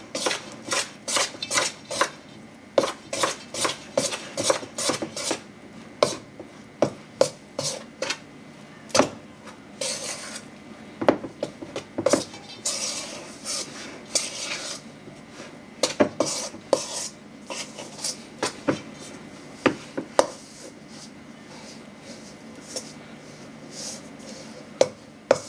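Pizza dough ingredients being mixed in a bowl, with repeated close clinks, knocks and scrapes of utensil against the bowl in an irregular rhythm, loud and alone.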